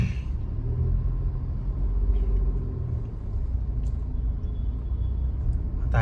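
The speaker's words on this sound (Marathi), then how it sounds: "आणि इकडे आपल्याला लागला ट्रॅफिक." Road traffic on the Mumbai–Goa highway, backed up at a single-lane bridge, forms a steady, dense low rumble of engines that runs unbroken for the whole stretch, with no voices.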